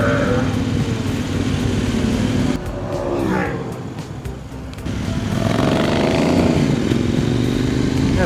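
A Kove 800 adventure motorcycle engine roars loudly while riding, a strong throaty drone that dips and backs off midway before pulling hard again with rising revs.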